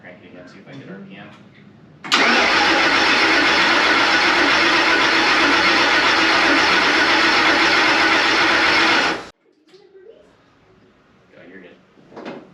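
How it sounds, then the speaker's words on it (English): A car engine is cranked by its starter after the ECU lost power, a loud continuous grinding whir of about seven seconds that stops abruptly, with voices talking faintly before and after. "I'll crank it again, see if I get RPM."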